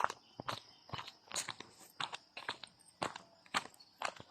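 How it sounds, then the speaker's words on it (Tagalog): Crunchy footsteps at a steady walking pace, about two steps per second, close by with no one talking. "naglalakad lang tayo mag-isa"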